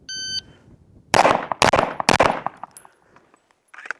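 A Race City Defense RC9 pistol fires three sharp shots in quick succession at 15 yards from the ready position, preceded by a short electronic timer beep, with faint clatter afterward.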